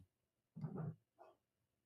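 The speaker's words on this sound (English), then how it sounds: "Oh, Rosie barking at somebody." Two short dog barks, a longer one followed by a brief second, fairly close in an otherwise quiet space.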